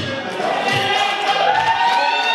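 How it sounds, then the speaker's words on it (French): Crowd cheering and applauding for Freddy Kaniki at a 60th birthday celebration in Los Angeles, a sustained loud wash of voices, whoops and clapping from many people nearby. "Applaudissez pour lui"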